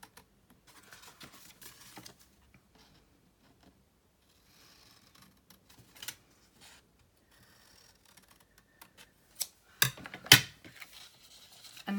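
Card being cut up for a handmade gift box, a quiet run of small snips and paper rustles that builds to a few sharper, louder cuts near the end, with no talking.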